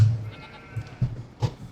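Sheep bleat in the Farming Simulator 25 video game, several short, low calls spaced irregularly against a quiet background.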